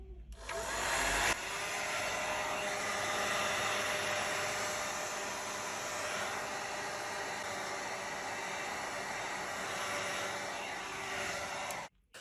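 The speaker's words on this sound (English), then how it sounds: "Use a heat gun or hairdryer to heat up the surface of the back panel." A heat gun or hair dryer blows with a steady, loud, broadband whoosh for about twelve seconds while heating the back panel of a Google Pixel 4 XL phone, then clicks off.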